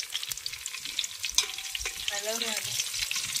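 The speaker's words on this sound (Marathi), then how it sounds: "मिरची फोडणी दिलेली आहे मिरची आणि याची." Green chilies sizzle in hot oil for a tempering, making a bright crackling hiss close to the pan. A few utensil knocks land early on, and a brief muffled voice is heard in the middle.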